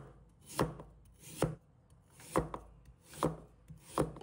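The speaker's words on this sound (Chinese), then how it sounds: "把它放在案板上，将其切成厚度均匀的薄片" Knife slicing a washed sweet potato into even, thin slices on a cutting board, five sharp evenly spaced chops close up, with quiet pauses between them.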